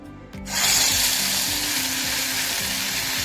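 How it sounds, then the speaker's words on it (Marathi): Masala frying in oil already used to fry soya chunks: a sizzle bursts in after a brief quiet start and then holds as a loud, dense hiss, with a faint rhythmic scraping of stirring underneath. "सोयाबीन वड्या तळलेल्या तेलातच मी आता मसाला तळून घेते"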